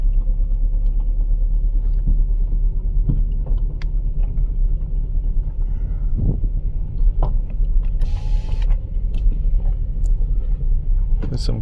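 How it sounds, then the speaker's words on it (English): A 2014 Chevrolet Cruze with the 1.4L engine misfiring badly, heard as a loud, steady low rumble with uneven mechanical knocks and creaks throughout, close to the car. "Oh man, this is misfiring bad, guys."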